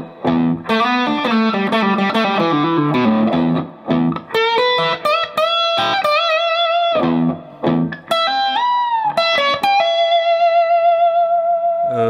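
Distorted electric guitar plays a run of fast solo licks, loud and close, with quick repeated notes, bends and brief gaps between phrases, a little reverb and no voices.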